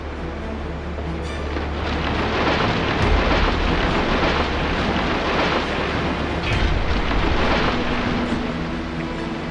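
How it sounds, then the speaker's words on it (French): A thunderstorm rages in the middle of a city, heavy rain and wind roaring continuously with deep rolling thunder swelling underneath, loud and close, with no voices. "la tempête a déchaîné sa fureur en plein milieu de la ville"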